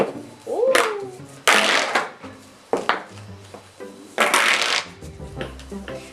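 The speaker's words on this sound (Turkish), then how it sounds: "Şimdi açıyorum daha kocaman olacak." Colorful plastic pop tube toys are stretched open on a table, making a series of loud ribbed ratcheting rasps and crackles, close up, in several bursts with short pauses between, plus a brief whistling squeak near the start.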